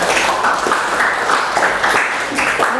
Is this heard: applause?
yes